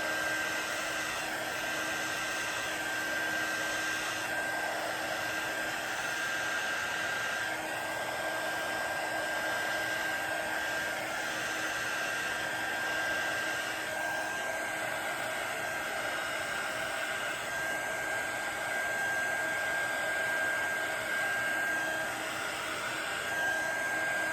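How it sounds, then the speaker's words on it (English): A heat gun blows air in a steady, continuous whoosh with a faint high whine running through it, close and unbroken for the whole stretch, with no talking. "I'm going to take my heat gun and blow it away"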